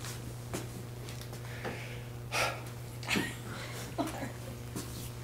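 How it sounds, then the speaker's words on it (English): Slow, steady breaths drawn during a yoga posture, several soft inhales and exhales spaced a second or so apart over a constant low hum, with no talking. "and just focus on my breathing."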